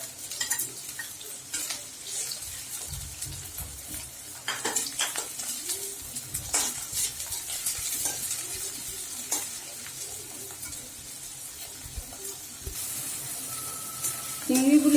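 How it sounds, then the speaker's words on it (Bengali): Onions and prawns fry together in a pan, with a continuous sizzle broken by scraping stirring strokes and clinks of the utensil against the pan. A voice comes in briefly near the end. "চিংড়িগুলি এভাবে আপনারা 2 মিনিট ভাজবেন, পেঁয়াজ আর চিংড়ি একসাথে।"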